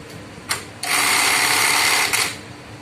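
A Juki LK-1900B bartack sewing machine runs a short stitching cycle, a loud steady mechanical whir lasting about a second with brief clicks before and after, up close and with no talking.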